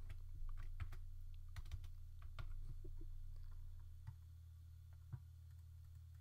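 Computer keyboard typed steadily while writing game code, a quiet run of soft, uneven clicks and taps against a low hum, with no voices.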